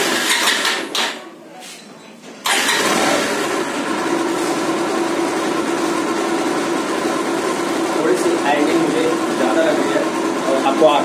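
A Bajaj Pulsar 150 motorcycle fitted with a new carburetor fires up after a brief pause, then settles into a steady, close, continuous idle.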